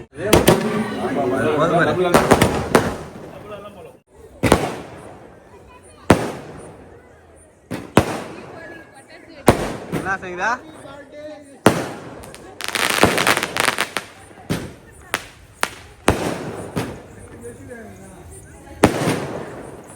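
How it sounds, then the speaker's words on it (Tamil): Firecrackers set off outdoors for a child's birthday celebration, a rapid irregular string of loud sharp bangs and pops over about twenty seconds, with people talking intermittently between blasts. "பாப்பா பர்த்டேக்காக பட்டாசு வைக்கிறோம்"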